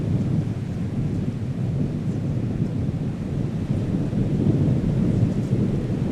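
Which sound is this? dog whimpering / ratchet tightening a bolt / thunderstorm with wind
thunderstorm with wind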